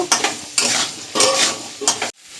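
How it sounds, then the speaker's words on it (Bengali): Potato and pumpkin pieces are stirred in a hot pan of oil, loud and close, with four rhythmic scraping, sizzling strokes followed by a sudden stop. "এবার কুমড়োটা দিয়ে দেবো, দিয়ে কিছুক্ষণ নেড়ে নেব।"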